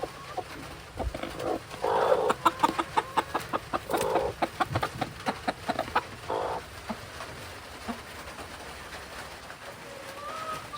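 A broody hen sitting on her nest clucks in a run of short, soft, irregular calls, close by. A few louder bursts come early, with faint rain-like patter underneath.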